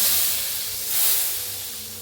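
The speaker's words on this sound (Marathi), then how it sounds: "आता गॅस करूया बंद फोडणी ह्याच्यावर वतून द्यायची" Hot spice tempering is poured onto kadhi, giving a steady, loud hissing sizzle that swells briefly midway and then eases, with no talking.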